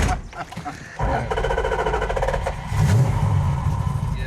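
A freshly restored car's engine cranks and catches, then revs up and settles into a steady idle, close and fairly loud, with some clatter mixed in.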